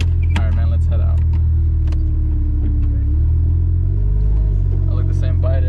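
A supercharged Lamborghini Gallardo engine rumbles low and steady at close range, holding a deep idle-like drone throughout while people talk over it.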